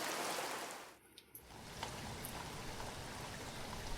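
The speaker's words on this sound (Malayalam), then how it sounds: "മഴ ഇങ്ങനെ പെയ്തുകൊണ്ടിരിക്കുന്നുണ്ട്" Steady rain hisses throughout, a dense even wash of falling water with a brief dip and a few light taps, no voices.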